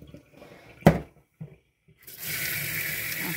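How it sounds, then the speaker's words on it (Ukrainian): Hot water poured into a bowl, a steady splashing stream that begins after a couple of soft knocks and holds on at moderate loudness. "Налила гаряченької водички"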